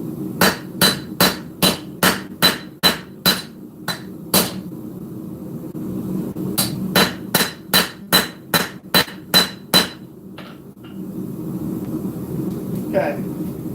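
A hammer forging a steel integral knife blade, upsetting the shoulders from both sides: two fast runs of sharp ringing blows with a short pause between them, followed by a lone strike and a faint voice.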